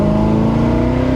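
A Mazda MX-5 ND with a 500hp+ V8 swap accelerates on a mountain road, giving a loud, close, steady engine roar whose tone rises slightly across the brief burst.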